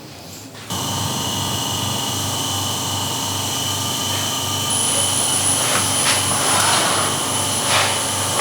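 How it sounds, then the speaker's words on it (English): A wood lathe spins with a steady mechanical hum and high whine, while light finishing cuts on a wooden bowl rasp faintly over it, growing slightly louder toward the end. "Some finishing cuts on this bowl just to finish off."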